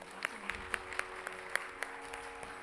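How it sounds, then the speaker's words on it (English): An audience applauds at a Bharatanatyam dance school's 2017 annual day. Crisp claps come close to the microphone at an even, regular pace over a steady background hum, fairly quiet overall. "Can I have one more round of applause,"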